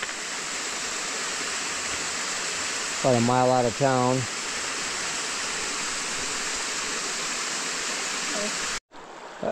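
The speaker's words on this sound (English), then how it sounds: "The waterfall for the day." A rain-swollen waterfall beside a muddy Appalachian Trail in Maine roars as a steady, loud wash of rushing water throughout, with someone speaking briefly over it.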